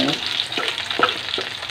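Thin-sliced squash and bean sprout fritters sizzle steadily in hot oil, with a few soft clinks and stirring sounds over the continuous frying and no speech.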